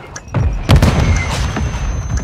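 A grenade goes off in the game Call of Duty Warzone, a sharp close booming blast followed by rumbling debris and other game noise.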